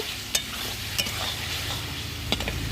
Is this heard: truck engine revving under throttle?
no